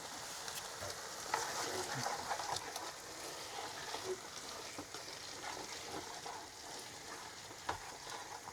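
Rice frying in a pan inside a camper van, a faint steady sizzle with occasional stirring scrapes and small clicks throughout.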